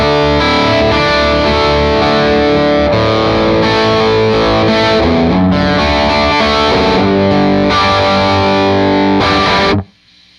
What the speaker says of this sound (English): let me give you first the hot channel, straight guitar